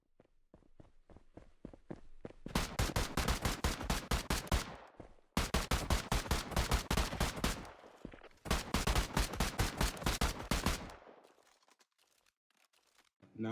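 Bursts of AK rifle fire in a video game: three long automatic strings of rapid, loud, evenly spaced shots, preceded by a few lighter single clicks and ending in quiet.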